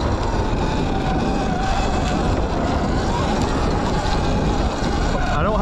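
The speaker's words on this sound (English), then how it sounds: "I don't have the wind noise reducer on." Heavy, constant wind buffeting a microphone during an electric Sur Ron X dirt bike trail ride, a loud roaring rumble that covers the whole stretch with no break.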